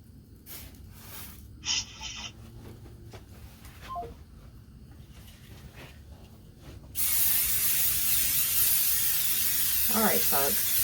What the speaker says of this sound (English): spray some Scotch Guard on one of these ottomans